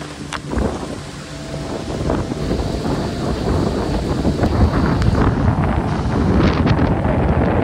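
Very strong wind batters the microphone at a mountain campsite, a deep roaring rumble that builds after a brief gust and stays loud and constant throughout, without voices.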